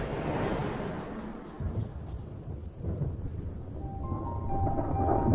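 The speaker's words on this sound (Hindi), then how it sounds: "आसमान बादलों से घिरने लगा है और बिजली भी गरजने लगी है" Thunder rumbling over African grasslands as monsoon clouds gather, a deep, rolling low roar that swells and fades in waves, fairly close and loud, with a light hiss of wind or rain beneath.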